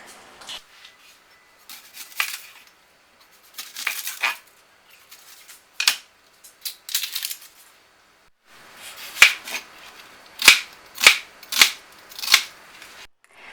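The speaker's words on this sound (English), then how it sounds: "The first thing I'm going to do is cut up this onion, the whole onion, and put it into this large stock pot." A knife cuts up a whole onion on a cutting board, sharp knocks in irregular bursts followed by a clear run of six or seven distinct chops, close and alone.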